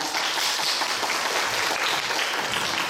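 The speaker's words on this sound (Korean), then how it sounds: "열띤 토론 펼쳐주신 김승희 위원님 그리고 대학생 국회 본선팀에게 다시 한번 큰 박수 부탁드립니다." A hall full of spectators applauds the finalist team and a lawmaker after a university student debate contest, with a continuous wash of clapping that fills the room evenly and stays loud throughout.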